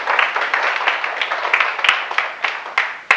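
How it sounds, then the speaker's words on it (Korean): A church congregation applauds with dense, continuous clapping, a few sharper individual claps standing out near the end. "박수!"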